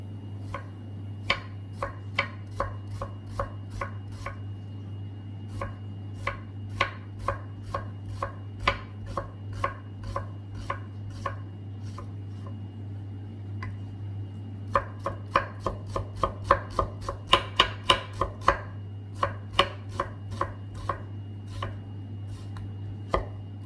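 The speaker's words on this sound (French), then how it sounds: "l'oignon, il est coupé finement" Onion being chopped finely with a knife on a board for an omelette with fries, a long series of crisp close chops in a steady rhythm that briefly speeds up partway, over a low constant hum, no talking.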